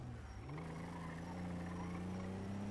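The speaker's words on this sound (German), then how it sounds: "Wow, fetter Motor! Was hast du für einen Motor hier reingebaut?" A V12 car engine in the video game Unity-Life, a steady low drone that rises slightly in pitch partway through, holding loud and constant.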